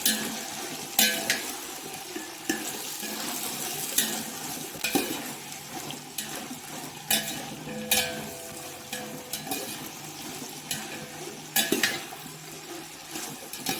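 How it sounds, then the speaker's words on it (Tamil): Chopped vegetables for sambar rice sauté in a pan on the stove, their low continuous sizzle broken by repeated scraping and tapping strokes of a spoon, close and clear with no speech. "இந்த பச்சை வாசனை போகிற வரையும் காயை நல்லா வதக்கி விட்டுக்குங்க."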